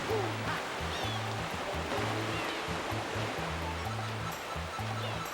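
A waterfall in Super Luigi Galaxy, a steady broadband rush of falling water that fills the whole clip, with low looping game music pulsing underneath.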